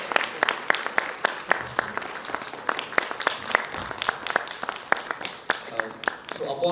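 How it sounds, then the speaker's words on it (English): An audience at an HR-EHS conference in Vadodara applauds for Dr. Shyam Pingle, with dense, sustained clapping from many hands that stays steady and fairly loud throughout. "Let's give a huge round of applause to Dr."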